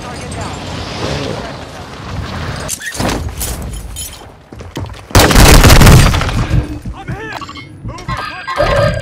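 Gunfire bursts from a pistol in Call of Duty, with a couple of sharp loud cracks early and a dense cluster of blasts midway, mixed with game effects and someone talking over much of it.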